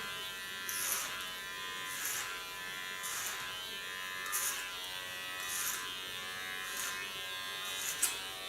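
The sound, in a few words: electric hair clipper cutting hair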